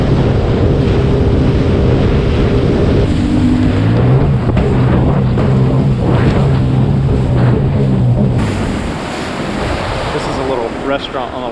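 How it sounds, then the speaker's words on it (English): A Sea-Doo Spark jet ski runs across open water with a steady engine drone, rushing spray and heavy wind buffeting the microphone for the whole stretch. "we're on our way back to the Ohio."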